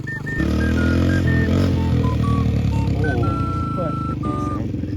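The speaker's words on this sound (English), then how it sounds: "Jake, you have to shift up" A motorcycle engine runs loud and close as a learner works the clutch, its tone stepping up and down in pitch with each gear change, while voices speak over it.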